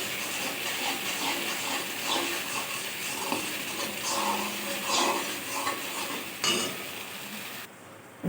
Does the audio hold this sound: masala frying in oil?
yes